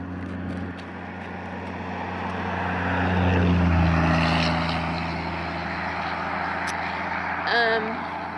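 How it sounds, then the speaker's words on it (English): A truck drives past outdoors on a road, its broad engine rumble and road noise swelling to a peak midway and then fading back into a steady traffic hum. "There's another truck coming."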